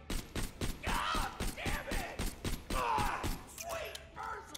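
A Hyperion pistol in Borderlands: The Pre-Sequel fires a steady series of sharp shots with whooshing, warbling projectile tails in between, a fairly even rhythm of about two shots per second.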